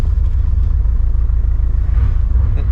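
A 1989 Chevy 1500 4x4 pickup cruises in second gear, a loud, steady low rumble from the engine held close and constant with no speech.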